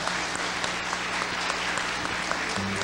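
Audience applause at a regional music show, a steady, fairly faint patter of clapping that continues evenly throughout with a low hum underneath.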